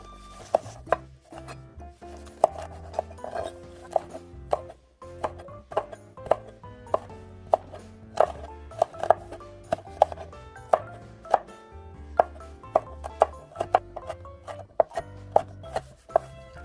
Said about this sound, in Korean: 당근도 잘게 잘라서 다져 놓고 홍고추도 잘게 잘라 다져 놓습니다